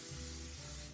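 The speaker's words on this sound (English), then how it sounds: "I'm gonna use a glass bread pan, all right? And I'm gonna spray it with some regular cooking spray" Regular cooking spray is sprayed from a can into a glass bread pan as one short, continuous, close hiss at low volume.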